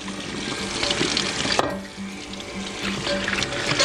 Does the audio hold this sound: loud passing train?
no